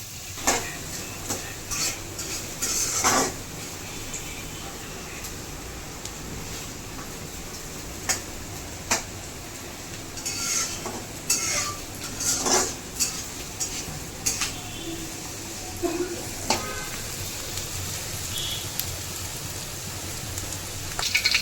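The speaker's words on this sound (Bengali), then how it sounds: "তো পেঁয়াজটা যতক্ষণ না ভাজা হচ্ছে ততক্ষণ আমি আস্তে আস্তে নাড়তে থাকবো।" Onions frying in a pot for Hyderabadi-style Haji biryani, stirred slowly, give a steady soft sizzle that sounds like light rain, broken by scattered clinks and scrapes of a utensil against the pot.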